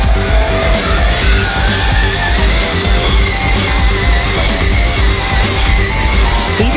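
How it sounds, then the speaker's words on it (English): A kids' ride-on remote-control Ferrari FXX R toy car drives along, giving a loud, steady electronic engine and racing-sound effect with faint squealing tones throughout. "So we're gonna go ahead and drive straight."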